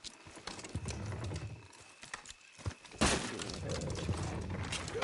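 Horse hooves from the video game Red Dead Redemption 2, a steady clip-clop of hoofbeats with rattling tack and a sudden louder crash midway, followed by continued galloping and scuffing.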